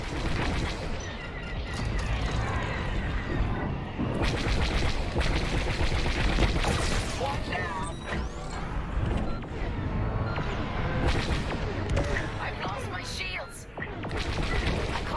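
Heavy blaster fire in a Star Wars Squadrons VR space-combat mission, a dense, continuous barrage of zapping shots and booms mixed with engine roar, heard under radio-style voices.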